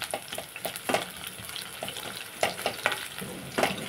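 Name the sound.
garlic frying in tempering oil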